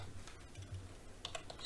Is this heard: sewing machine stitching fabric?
no